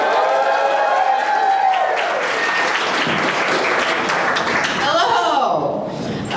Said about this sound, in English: Give a loud round of applause for the very funny Carly Ballerini.